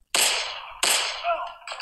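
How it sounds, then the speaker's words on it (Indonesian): Gunshot sound effects added in a KineMaster action edit: two sharp, loud cracks about 0.7 seconds apart, each decaying quickly, with a third shorter burst at the end. "Kita cari efek tembakan tadi."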